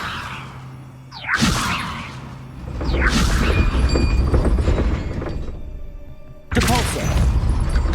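A Levioso spell cast in Hogwarts Legacy: a rising whoosh followed by a loud crashing burst with rumbling debris, then another sharp burst near the end, all game effects with no talk.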